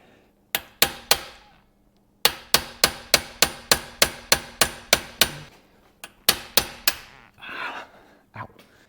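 Sharp metallic hammer strikes driving a pin in a Floppy Fastline shifter repair, a few taps then a fast even run of about a dozen blows, pausing and resuming, close up.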